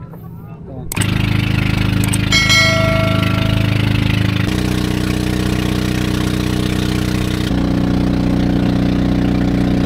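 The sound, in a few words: motor boat engine running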